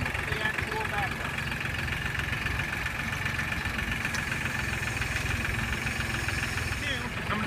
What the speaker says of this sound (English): Now I have the tractor started